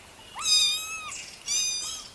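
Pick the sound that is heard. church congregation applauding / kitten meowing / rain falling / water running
kitten meowing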